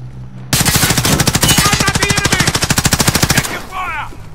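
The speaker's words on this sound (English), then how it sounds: "You guys know I'm shooting the shit out of Andrew?" Rapid automatic gunfire in Call of Duty Modern Warfare Warzone, a loud close burst of evenly spaced shots lasting about three seconds, then a brief quieter tail with faint other game sounds.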